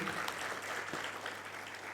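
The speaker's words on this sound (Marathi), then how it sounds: "खरंच एकदा आपण टाळ्या वाजवून त्यांचं स्वागत करू" An audience at a book launch breaks into steady, continuous applause, a dense patter of many hands at moderate volume that holds evenly throughout.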